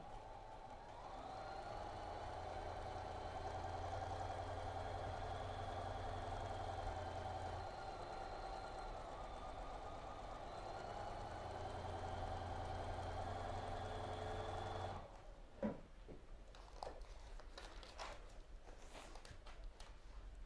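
A sewing machine stitches quilt star border blocks in one long, steady, low hum for about fifteen seconds, then stops, leaving quieter handling and rustling of fabric close by.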